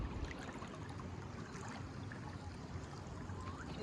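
A small, gentle current of clear water flows along a stream in Oman, a steady soft wash with a low rumble and no speech.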